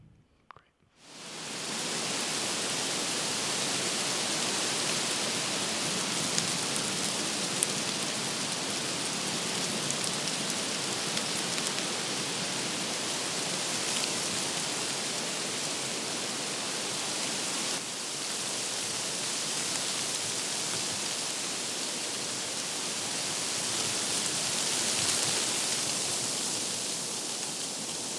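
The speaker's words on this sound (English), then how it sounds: "So that's the sound of the leaves." Leaves of the Pando aspen grove rustle up close in a dense, even wash of soft hiss that carries on steadily for nearly half a minute, with no voices.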